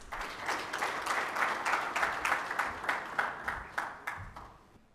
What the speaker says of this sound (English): Help me welcome him with a round of applause.